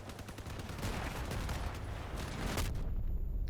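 A machine gun in Crossout fires a sustained rapid stream of shots, dense and continuous, building slightly in loudness before cutting off near the end.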